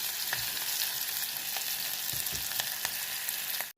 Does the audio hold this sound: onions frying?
yes